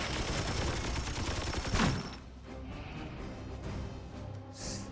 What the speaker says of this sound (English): And one more shot.